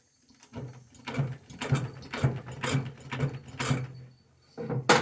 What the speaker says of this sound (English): I'm pushing this sewing machine that it can't keep the foot down sometimes.